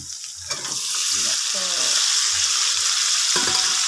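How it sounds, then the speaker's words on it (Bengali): Meat frying in a pan, being browned before the curry: a close, constant hiss and sizzle with a few soft knocks and stirring sounds, no speech over it. "মা এই মাংসটা আগে একবার জ্বালায় নিচ্ছে, এর জন্য এরকম দেখাচ্ছে ভাজা"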